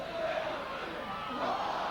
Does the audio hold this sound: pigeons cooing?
no